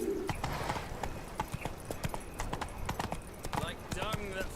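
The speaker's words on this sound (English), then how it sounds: "Run, Roach. Not so fast, Roach" Horse hooves in The Witcher 3: Wild Hunt on PC, a rapid, rhythmic clip-clop of galloping that runs throughout, with game voices speaking over it and a brief whinny-like sound near the end.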